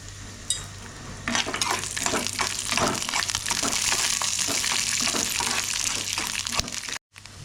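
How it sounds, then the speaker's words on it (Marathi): Peanuts tossed into hot oil in a pan start a loud, close sizzle with stirring scrapes and crackles that run steadily until a brief drop-out near the end. "आता हे खोबरा आणि आपण शेंगदाणे भाजून घेऊया बघा शेंगदाणे टाकते मी पहिले भाजायला"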